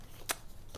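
A little paper card is handled out of a sewing subscription box: two quick, soft papery flicks, the first sharper, set against a quiet room.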